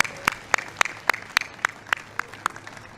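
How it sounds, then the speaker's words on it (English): Sharp, evenly spaced claps ring out one after another, a steady rhythmic clapping of about a dozen beats with no voices over it. "How about a round of applause for our birthday president?"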